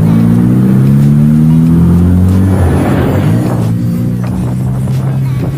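A Honda Click scooter fitted with a titanium JVT CVT set revs loudly up close, the engine note holding and then dropping as it accelerates.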